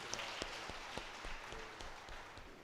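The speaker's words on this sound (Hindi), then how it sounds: "तालियां बजा के प्रभु को धन्यवाद दें।" A church congregation at a Sacred Heart Cathedral prayer service claps together, a faint, distant wash of applause with scattered sharper hand claps throughout.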